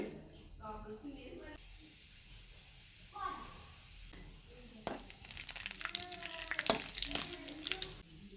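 Cumin seeds crackle and sizzle in hot oil in a pan while karam chana is being cooked, a steady frying hiss that grows busier toward the end, with a person talking over it at times.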